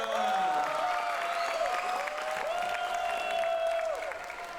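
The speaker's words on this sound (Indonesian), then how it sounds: "Tepuk tangannya kurang keras dong untuk Dr. Alvin Wiharja" An audience at a health and exercise talk show claps for a speaker, a broad sustained patter of hands beneath a steady sustained tone, ongoing throughout.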